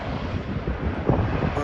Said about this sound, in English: it is very windy out today. A bit of a cold wind.